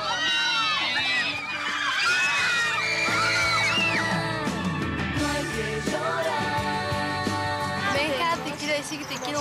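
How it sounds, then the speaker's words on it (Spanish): Fans screaming and yelling on a film set during a break in shooting, a loud continuous crowd of high-pitched shrieks and cheers with overlapping voices shouting. "Ahora decían corte y arrancaban con las fotos, a gritar y todo."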